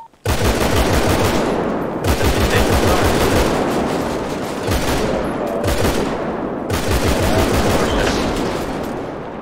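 Gunfire in a GTA roleplay session: long, loud bursts of rapid automatic shooting in several sustained volleys with brief gaps between them, close and dominant, with a short spoken exclamation at the start.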